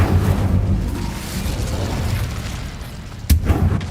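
An Incendio fire spell is cast in Hogwarts Legacy: a loud, roaring rush of flame and rumble that holds steady, then a sharp burst near the end, close with no talk.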